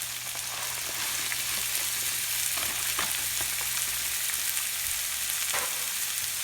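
A frozen quinoa package sizzles in a pan with olives and tomatoes, producing a steady close crackle broken by a few stirring scrapes.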